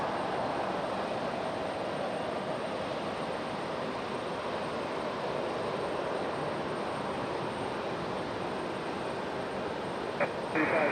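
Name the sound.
airliner departing RDU airport for Washington Dulles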